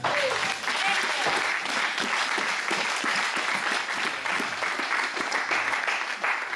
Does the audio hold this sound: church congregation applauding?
yes